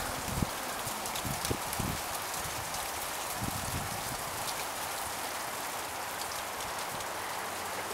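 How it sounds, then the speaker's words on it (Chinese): Hailstones mixed with rain pelting down outdoors in cold weather, a dense steady patter with sharper ticks and knocks from larger stones hitting surfaces, continuous and fairly loud throughout. "哇，很大力啊，应该比澎湖的冰雹更有力吧。"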